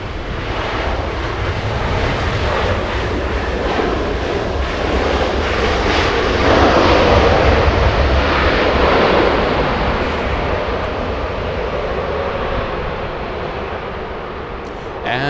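An Emirates Airbus A380 at Los Angeles International Airport produces a loud, sustained jet-engine roar that builds to a peak midway and then slowly eases off.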